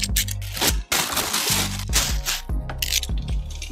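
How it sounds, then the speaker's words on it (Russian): A game console is pulled out of a plastic postal mailing bag, with crinkling, rustling plastic and a few hard clattering knocks close to the microphone, loud and busy. "Давайте же незамедлительно ее оттуда достанем."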